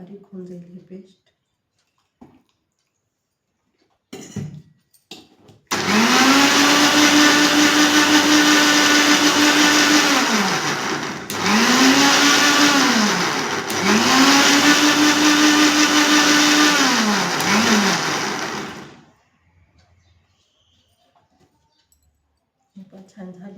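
A mixer grinder whirs loudly as it grinds snake gourd masala with a little water into a paste. It runs for about thirteen seconds in three bursts separated by brief pauses, with faint sounds before and after.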